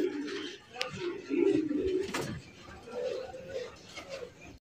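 High-flying Revaz pigeons coo softly nearby, several low, throaty calls repeating over a quiet background.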